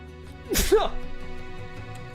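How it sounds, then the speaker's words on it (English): A single sharp sneeze bursts out close to the microphone over a faint steady background hum. "I'm about to sneeze."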